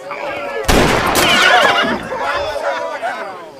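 A horse lets out a loud, shrill whinny up close, rising and wavering for a couple of seconds amid a fistfight's scuffling and shouting voices.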